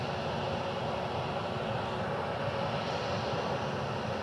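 A Frontier Airbus A320neo jet lines up for departure at Cleveland Hopkins, its engines giving a steady, broad roar that holds even and fairly quiet throughout, with no voices.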